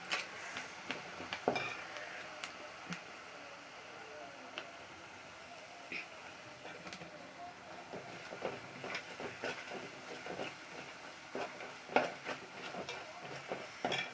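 Curry leaves and masala frying in oil for rasam: a soft continuous sizzle with scattered small crackles, pops and the occasional stir of a spoon, fairly close, no speech.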